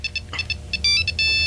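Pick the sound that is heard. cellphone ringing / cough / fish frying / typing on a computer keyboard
cellphone ringing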